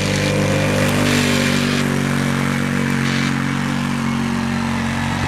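A V-twin Arctic Cat Wildcat side-by-side powers through sand dunes at Little Sahara, its engine roaring loud and steady from start to finish without a break.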